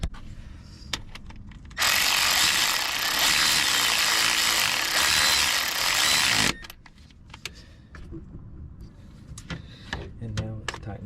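A power tool drives bolts into a Toyota Corolla starter, a loud steady whirring burst that lasts about five seconds and cuts off sharply, framed by scattered clanks and handling noises.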